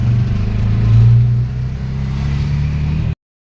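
Engine of a motor vehicle on a village road trip to a Holi celebration, a loud steady low rumbling drone with a slight rise in pitch early on, heard from inside while riding, then cut off abruptly.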